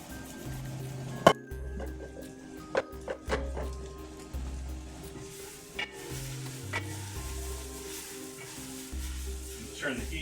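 Food sears and sizzles in a hot pan, a soft continuous frying hiss broken by sharp clinks and scrapes of a utensil, with a faint musical bed beneath.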